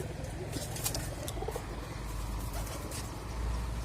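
Soft low cooing of pigeons on a rooftop garden repeats over a steady background rumble, with faint distant traffic.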